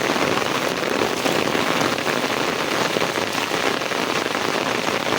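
Heavy, unbroken rain pours onto a brinjal (eggplant) field after days of nonstop downpour, a dense, even roar of drops hitting leaves and soil, close and steady with no voices.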